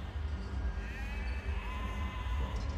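Sheep bleat in the video game Catherine, a wavering cry that rises out of a dense, steady wash of game background noise and lasts a couple of seconds.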